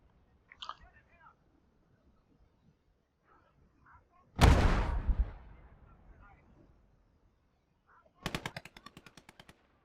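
Gunfire in the WWII game Gates of Hell: Ostfront: a heavy blast followed by a rumbling tail, then a rapid burst of machine-gun fire, with faint sounds between and someone talking at the start.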